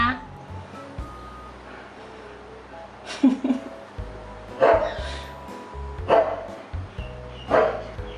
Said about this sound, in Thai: ในคลิปนะมีเสียงน้องหมาแม่ค้าเห่าค่ะ ก็คือเขาเห่านก